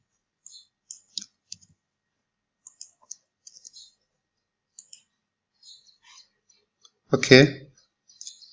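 Computer mouse clicks while setting up a bulk email send, a dozen or so sharp, faint, scattered clicks spread across the stretch, with a brief spoken word near the end.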